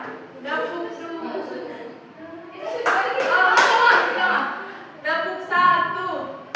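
A school class clapping in rhythm, with short bursts of quick unison claps separated by pauses and a longer stretch of clapping in the middle, while children and a teacher speak between the rounds.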